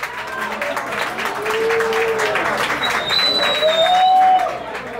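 A TV show studio audience claps steadily, a broad continuous wash of applause that swells toward the end, with a whistling tone and voices mixed in.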